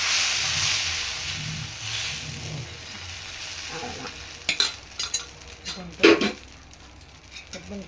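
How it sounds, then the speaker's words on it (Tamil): Adai dosa batter on a hot, oiled pan fries with a steady close sizzle and hiss, followed by a few louder scraping and clattering touches from a utensil. "எடுத்துட்டு அடுத்த தோசை ஊற்றுறேன் பாருங்கள்"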